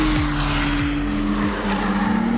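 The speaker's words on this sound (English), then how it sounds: "And that engine as well, it sounds fantastic." McLaren Artura plug-in hybrid supercar with V6 engine on a race track, a loud close engine note rising through the revs in repeated sweeps as it shifts gears, with a steady pitched tone running underneath.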